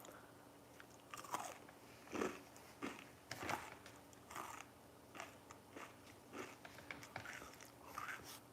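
Crunchy food is bitten and chewed very close to a microphone, with a series of sharp, crackling crunches spaced irregularly over quiet, soft background hiss.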